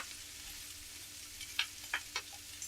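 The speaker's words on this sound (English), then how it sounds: "we'll add our onions and peppers and the cabbage, the Napa cabbage" Onions, peppers and Napa cabbage sizzle quietly in a pan with a steady hiss, broken by a few sharper crackles and stirring scrapes near the end.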